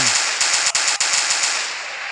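Loud gunfire from the video game Zona Shadow of Lemansk, a dense rapid automatic burst that carries on for about two seconds with a few sharper shots.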